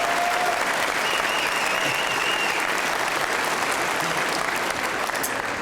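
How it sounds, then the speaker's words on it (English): Sustained, loud applause from a large crowd at a high school graduation ceremony, dense steady clapping that fills the whole stretch without pause. "give them a big round of applause"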